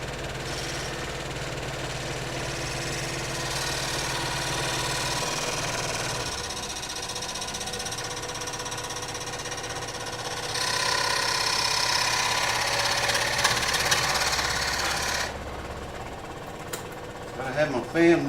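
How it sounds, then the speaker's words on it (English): A power saw cuts through an Ibanez guitar fretboard, a loud continuous buzzing whine that shifts in pitch and strength midway, then cuts out near the end, followed by a few clattering knocks. "I cut the other end off up here with this saw and it was okay, so I'm going to go ahead and use it on this one too."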